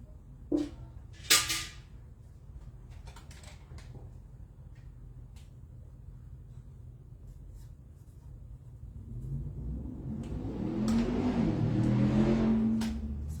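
A car passes on a road posted at 30 mph outside, its engine rumble swelling loudly toward the end after a quieter stretch with a couple of sharp knocks early on.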